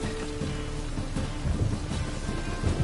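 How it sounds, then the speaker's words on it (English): Video game thunderstorm in The Witcher 3, with steady heavy rain pouring over a surface and low rolling thunder swelling twice, alone and fairly quiet. "A storm, damn it."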